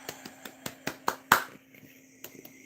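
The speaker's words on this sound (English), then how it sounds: "Round of applause for Fook." A single person clapping during a live stream, about a dozen sharp, evenly spaced claps that build in loudness and then trail off quietly, close to the mic.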